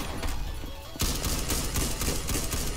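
Gunfire in the video game Ragdoll Universe: a quiet stretch, then a loud burst of rapid shots that keeps rattling on to the end, with no talking.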